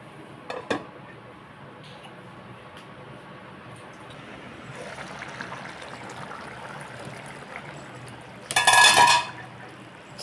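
A lid is set on and lifted off a pot of simmering black-eyed peas with eggplant, giving a faint early clink and a loud, bright metallic clatter near the end over a low kitchen background.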